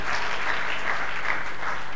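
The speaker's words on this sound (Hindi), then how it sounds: "जोरदार तालियों के माध्यम से हम सभी हमारे कवियों का जोरदार स्वागत करते हैं।" An audience breaks into loud, sustained applause to welcome poets at a poetry gathering; dense, even clapping fills the whole stretch with no voices over it.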